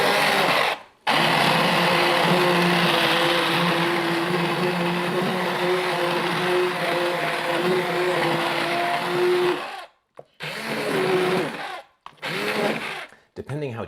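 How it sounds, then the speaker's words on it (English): An immersion blender whirs loudly while blending tomatoes into sauce, running as a long continuous motor drone, then cutting out and restarting in several shorter bursts. "what we can do is blend them with the immersion blender"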